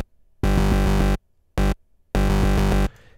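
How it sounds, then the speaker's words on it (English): Raw Thor synth oscillators, three square waves stacked an octave apart with chorus and filter off, play three loud buzzy sustained notes with a short gap between them and no voices. "I've achieved this raw sound by basically just activating 3 square waves and setting them 1 octave apart."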